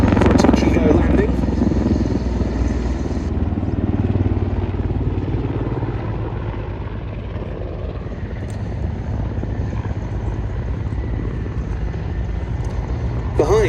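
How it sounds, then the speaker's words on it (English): Mi-8 Hip helicopter coming in for a touch-and-go landing at the Duxford airshow, a loud continuous rotor thump and turbine roar that stays close throughout, with commentary talk over it. "in comes the Hip for a touch-and-go landing."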